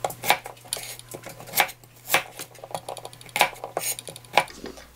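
A knife chops Jerusalem artichoke on a cutting board in a kitchen: about eight sharp, uneven knocks of the blade striking the board, close and clear, with a low steady hum beneath.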